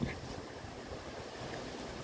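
Steady outdoor wind rushing and buffeting on Lamma Island near a windmill, a continuous broadband roar with low rumble, like gusts hitting the microphone near open water.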